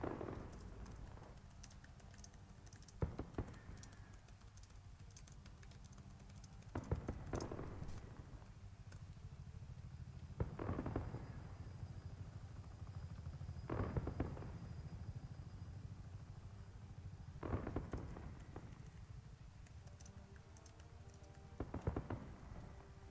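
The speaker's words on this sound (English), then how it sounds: "We hear the fireworks going off in the background" Distant fireworks go off in the background of an Abu Dhabi Formula Endurance sim race, faint muffled pops and thuds recurring every few seconds over a quiet, steady hum.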